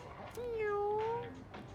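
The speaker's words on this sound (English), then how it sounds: "we're gonna feed a very skinny and anorexic cat" A cat in the Persona 3 Reload video game gives a single drawn-out meow with a rising then falling tone, clear and close over a low game background.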